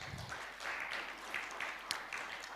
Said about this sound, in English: We should clap for ourselves.